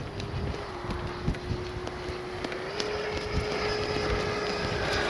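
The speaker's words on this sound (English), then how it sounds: "It is awfully windy." Strong wind buffets the microphone at an RC flying field, a gusty rushing roar with a few thumps. A thin steady whine from an RC jet runs underneath.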